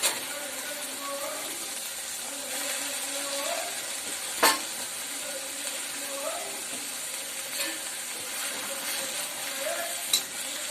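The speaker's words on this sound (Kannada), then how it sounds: "ನೀರೆಲ್ಲ ಹೋದ ನಂತರ ಪುದೀನ ಚೆನ್ನಾಗಿ ಹುರ್ಕೊಂಡು ಕೊತ್ತಂಬರಿಯನ್ನು ಹಾಕ್ತೀನಿ" Mint leaves fry in a pan for pudina chutney, giving a continuous soft sizzle with scraping stir strokes and a few sharp clinks of the spoon against the pan.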